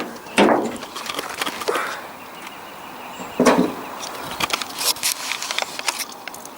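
Toyota RAV4 bonnet with a D4D diesel engine being opened, giving a couple of sharp latch clunks and knocks close by, followed by a cluster of quieter clicks and rattles as the hood is lifted.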